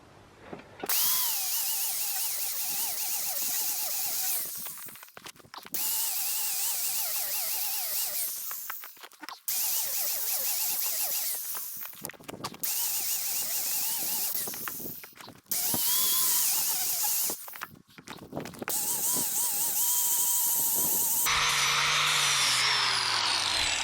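Power tool shaving wood on a deck build, loud whirring bursts repeated in several long runs with short pauses between them, close by.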